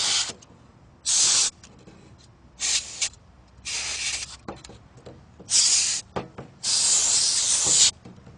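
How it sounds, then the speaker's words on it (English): Compressed air blasts dust out of a computer's cooling fans in short, sharp hissing bursts, about six of them with brief quiet gaps, loud and close, with the last one held longest. "I'll reach in and hold on to the lower fan's blades and blow out the dust"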